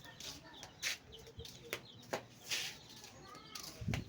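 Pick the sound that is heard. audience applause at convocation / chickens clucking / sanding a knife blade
chickens clucking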